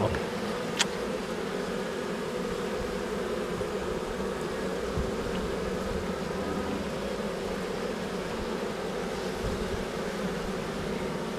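Dense, continuous buzzing of many bees, a steady droning hum at close range with no talking.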